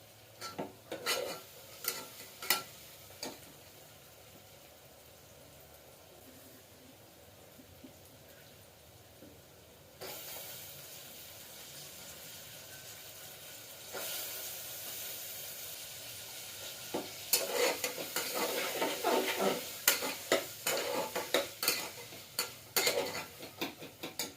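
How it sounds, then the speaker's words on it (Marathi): Broad beans sautéed in a pan with green chillies, garlic, onion masala and red chilli powder, giving a faint hiss with scraping stirs and light clinks that grow busier toward the end, close by with no talking. "घेवडा टाकून व्यवस्थित परतून घेतला."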